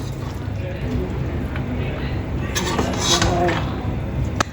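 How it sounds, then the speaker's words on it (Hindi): A spoon stirs spiced food in a metal pot, with scattered clinks and scrapes against the sides over a low background murmur. "अभी मिक्स करती हूँ"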